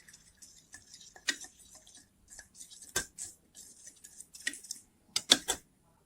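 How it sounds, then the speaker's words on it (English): Light clinks and scrapes of a utensil stirring lemon slices in a vinegar solution, scattered soft taps with a few sharper knocks, close and quiet with no talking. "Then I will stir the solutions."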